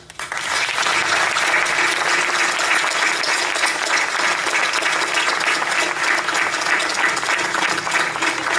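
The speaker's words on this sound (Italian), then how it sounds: "Il premio migliore che abbiamo è il vostro applauso" Audience applause fills the hall after a school theatre performance of a Neapolitan comedy, steady and loud, dense clapping throughout without a break.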